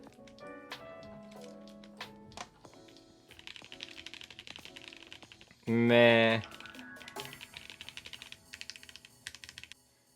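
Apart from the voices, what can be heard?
typing on ID80 mechanical keyboard with ABS keycaps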